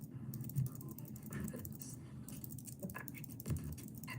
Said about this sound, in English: Wow, a lot of shuffling.